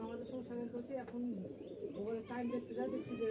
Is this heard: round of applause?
no